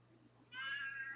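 A cat gives one clear, drawn-out meow close to the microphone, rising out of a quiet indoor room tone.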